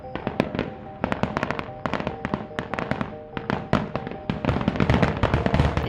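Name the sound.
fireworks exploding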